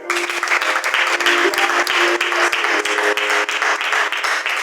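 A congregation at a prayer meeting breaks into sustained, dense applause in acclamation of the Lord, steady and loud across the whole stretch with no talk on top.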